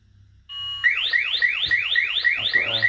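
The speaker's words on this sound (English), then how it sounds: "got an alarm." Alarm from a Tempis temperature detection unit: after a short steady tone it breaks into a rapid series of repeated rising electronic sweeps, loud and close, with no one talking.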